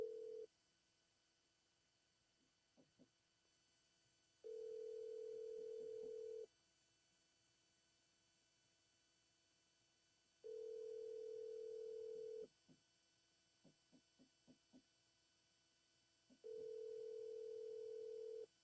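A phone rings unanswered while calling a for-sale-by-owner home seller, the steady ring tone coming in long bursts separated by silent gaps, with faint clicks between.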